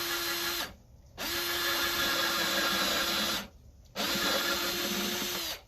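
A power drill bores a 3/4 inch hole into a plastic hydroponics container in three loud, whirring bursts separated by short silent pauses.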